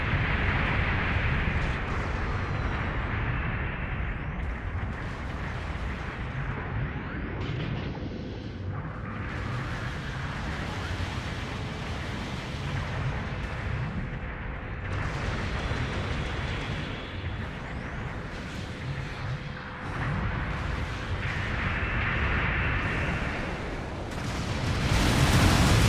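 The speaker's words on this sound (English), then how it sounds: "Supporting fire dealt decent damage." Supporting fire explosions rumble and burst continuously in a heavy Gundam mech battle game, a dense roaring barrage of blasts with swelling peaks and no pause over nearly half a minute.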